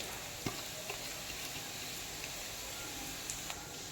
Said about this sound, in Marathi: शेंगदाणे मग मस्त असं छान परतवून घ्यायचे